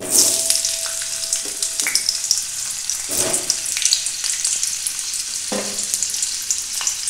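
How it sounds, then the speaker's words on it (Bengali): Potatoes fry in white oil in a kadai with a bright, continuous sizzle, broken by a few louder bursts and clinks of stirring. "তেলে আমি আলুগুলো ভেজে নেব।"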